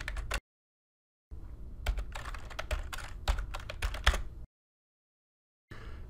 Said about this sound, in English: we can type in chart notes